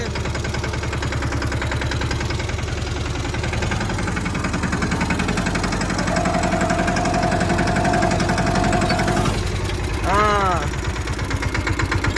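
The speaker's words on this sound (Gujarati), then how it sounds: "આપણી પાસે જમીને થ્રેસર ચાલુ કરી દીધો" Farm thresher running in the rain, a loud, steady, throbbing engine drone with rapid mechanical pulsing, a sustained whine joining midway before a brief burst of clatter near the end.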